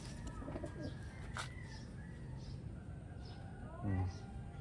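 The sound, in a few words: pigeons cooing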